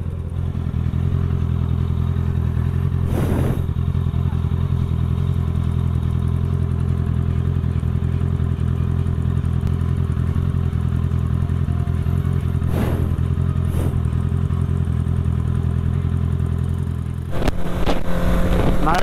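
Motorcycles ride past in road traffic, a steady loud engine drone with a few brief rising passes and revs, ending in a sudden louder rush.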